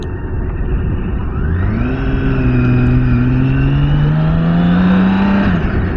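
A BMW K 1600 B six-cylinder motorcycle accelerates hard, its engine rising in pitch through a long pull up close and loud, with wind noise underneath.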